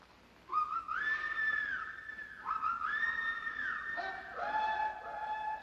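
A man's signal whistle in a 1955 western set among Apaches, rendered as a few loud, sustained rising-and-falling calls repeated in sequence, with another tone answering near the end.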